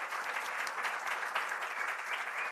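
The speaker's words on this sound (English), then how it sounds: "Can we just give one last round of applause to all our presenters?" Steady audience applause for presenters at an emerging researchers symposium, a dense even clapping from a seated room that holds for a few seconds.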